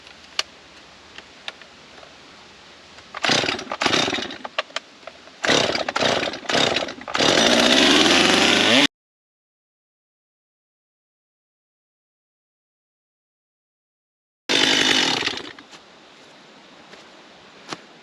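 A Stihl MS 250 chainsaw cuts off excess parts on a homemade firewood log trailer, several short revving bursts followed by a longer loud cut, a sudden silent gap, then another roaring burst before returning to quiet idle.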